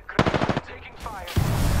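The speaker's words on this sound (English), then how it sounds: "Enemies are shooting at me." Rapid bursts of automatic gunfire in a first-person shooter video game, several close, loud shots in quick succession, then a pause and a rising swell of further firing and battle noise.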